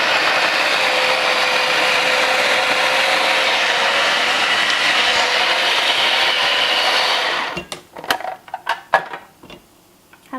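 A loud, steady motorized whir of a food processor making raw vegan lasagna runs for about seven seconds, then cuts off, leaving scattered clicks and knocks.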